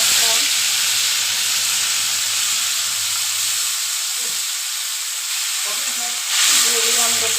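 Ground spice paste sizzles and fries in a hot pan while making mocha ghonto, a banana flower dish cooked with Gobindobhog rice. The frying hiss is steady and close throughout, swelling briefly louder near the end.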